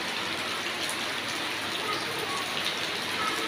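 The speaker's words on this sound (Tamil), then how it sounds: "மழை பெய்யுது பாரு" Steady rain falls in Kerala, a continuous dense hiss of drops with no pauses and no speech over it.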